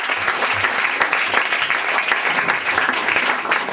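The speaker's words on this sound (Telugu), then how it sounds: "చప్పట్లు కొట్టి." A church audience at an opening ceremony claps steadily and densely, with continuous loud applause filling the room and no voices over it.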